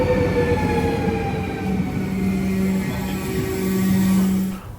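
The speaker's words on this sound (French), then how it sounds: "Voilà notre train, une rame à 2 niveaux construite par Alstom." An Alstom-built double-deck train runs along the rails, a loud, steady close rumble with sustained tonal hums and faint squeals, holding evenly before fading at the end.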